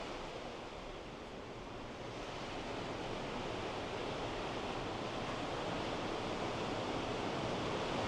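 Steady broadband rush of open ocean seen from a cruise ship at sea, a continuous wash of waves and wind with no talking.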